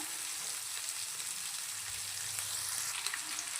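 Onions frying in a pan for a Rayalaseema-style uggani and mirchi bajji, a steady close hiss and sizzle filling the whole stretch with no talking.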